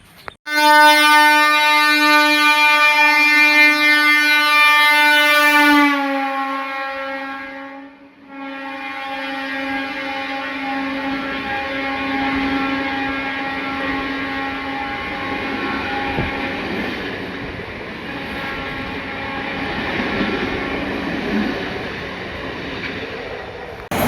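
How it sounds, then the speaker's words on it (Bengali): A train approaches a station from the down line with a loud, sustained horn blast lasting several seconds, then rumbles steadily past as the horn fades into continuous rolling wheel and carriage noise. "ওই যে দূরে ডাউনের দিক থেকে একটি ট্রেন আসছে"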